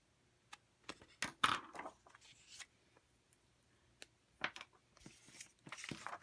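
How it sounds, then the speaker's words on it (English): Close, quiet snips and crisp rustles of scissors cutting through paper, coming in short irregular bursts with brief pauses, no talking. "scissors and just trim the edges there."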